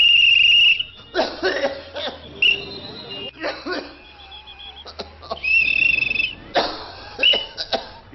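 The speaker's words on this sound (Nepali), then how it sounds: "यो मान्छेले यसरी लगातार खोक्न थाल्नुमा कति भयो?" A person coughs repeatedly in a public health broadcast, with several harsh bursts spread across the stretch, close and loud, mixed with other vocal noises and some tonal background sound.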